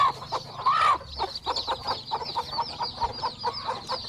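Mother hens with chicks on a poultry farm, a steady run of close, rhythmic clucks mixed with a few higher chick peeps and cheeps, busy and fairly loud with no voices.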